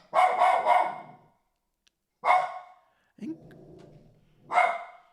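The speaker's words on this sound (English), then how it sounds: "Whenever you hear the barking, though, it's not actually coming from her." A dog barks in short loud bursts close by, several quick barks, then a single bark, a low grumbling whine, and another bark, separated by silent gaps.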